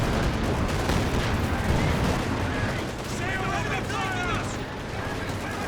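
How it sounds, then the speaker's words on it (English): In the real-time strategy game Company of Heroes 2, bazookas fire and hit amid a dense, continuous wash of battle gunfire and explosions, with a commentator talking over the din. "Bazooka's getting some good hits there"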